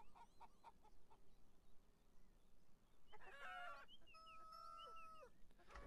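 Hens cluck and squawk around a henhouse in the video game Beyond Eyes, scattered soft clucks early, then a louder drawn-out squawk and cackle near the end, quiet overall.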